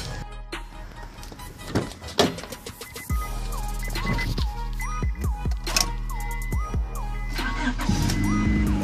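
An old car's engine cranks and catches, settling into a steady running idle with a faint whine. It follows a serpentine belt repair and sounds close and loud, with no speech over it.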